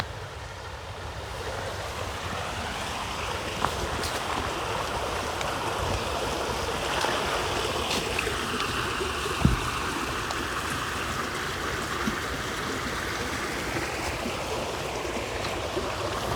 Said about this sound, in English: Lots of water running in.